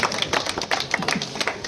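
Villagers clapping to honour the chief guest at a village gathering, a dense, ragged patter of many hands heard fairly close throughout, uneven in rhythm with some louder bursts.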